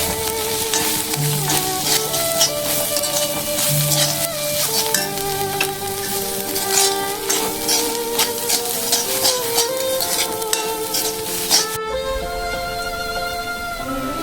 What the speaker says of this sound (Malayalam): ഇനി ഇവയെല്ലാം കൂടി നമുക്കൊന്ന് ഇളക്കി യോജിപ്പിച്ചെടുക്കാം